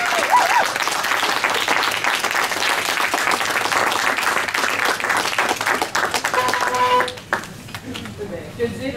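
Sustained loud applause from a live audience welcoming the author of the comic series Les Nombrils, dense clapping throughout that thins abruptly near the end.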